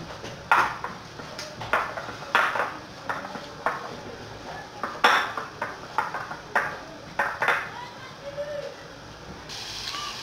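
A utensil clinks repeatedly against a bowl while garlic and herbs such as coriander and parsley are mixed, giving irregular light taps under someone speaking.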